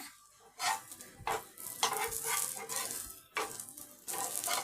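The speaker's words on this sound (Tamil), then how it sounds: "இந்த மாதிரி 2 பக்கமும் நல்லா ஒரு பொன்னிறம் வறுத்து எடுத்துக்கோங்க" Broadband sizzling bursts come and go in waves, with occasional utensil clinks, as a bread vegetable cutlet fries golden in hot oil in a pan up close.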